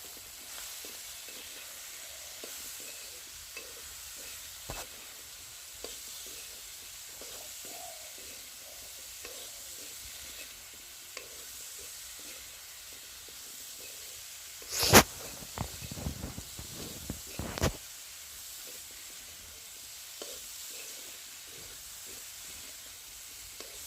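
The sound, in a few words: frying leafy greens in a pan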